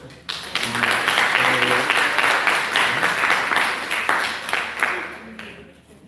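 A workshop audience claps in a sustained, dense round of applause that fills several seconds and then tapers off, with a voice speaking faintly underneath.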